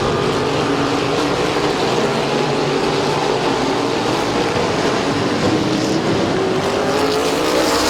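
Race cars roaring around the oval at Midvale Speedway, a loud continuous wall of engine noise from a pack of cars at close range, sustained without a break and with no voices over it.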